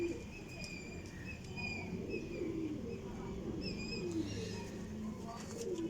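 Teddy golden cross pigeons coo steadily in a loft, their soft, repeated throaty calls layered over one another with faint chirps and low background noise throughout.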